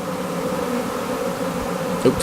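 A honeybee swarm arriving at a nuc hive set on top of a shed, giving a steady, dense buzzing hum of many bees close by throughout, with a brief louder bump near the end.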